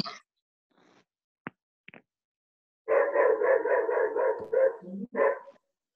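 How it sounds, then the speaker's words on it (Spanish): A dog barks in a quick run of about seven or eight loud, close yaps, with a short pause and then one or two more, after a few faint clicks and bumps. "¿Y tiene un perro o qué?"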